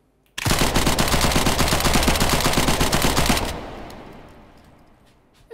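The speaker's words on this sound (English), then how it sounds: "One shot, two shots, many, many, many shots." Sustained automatic gunfire from a firearm in the VR shooting game Hot Dogs, Horseshoes & Hand Grenades, a rapid loud burst of about three seconds that stops abruptly and leaves a fading echo, with no talking.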